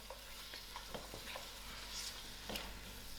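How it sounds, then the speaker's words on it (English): Lamb curry meat is stirred in a hot pot, with soft scraping strokes over a faint, steady sizzle, quiet and close. "give the meat a nice stir"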